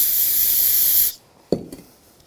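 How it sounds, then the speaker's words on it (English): A loud, close hiss of brake parts cleaner sprays onto the caliper pins of a 2007-2013 BMW X5 for about a second. It stops abruptly and is followed by a few faint clinks. "Take the caliper pins and we'll use a little brake parts cleaner"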